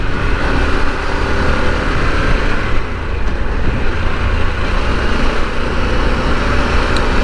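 A Harley-Davidson Pan America motorcycle accelerates in sport mode, heard as a loud, continuous roar of engine and wind rush from the rider's position, with no talking.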